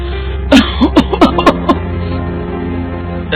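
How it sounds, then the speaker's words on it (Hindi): A burst of several harsh coughs in quick succession, close and loud, then fading to quiet room tone. "ये खांसी तो जा ही नहीं रही है"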